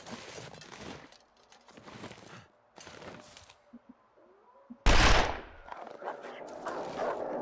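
A single loud gunshot from a rifle in the survival game The Long Dark, sharp and close, standing out after quieter rustling and footsteps, then fading into a lingering echo with faint activity continuing.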